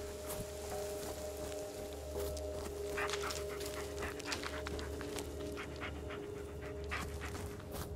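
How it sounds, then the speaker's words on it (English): A dog pants rapidly and steadily at close range in a dark forest, with quick breathy puffs repeating throughout over a low background hum. "Yeah, good dog. Good boy."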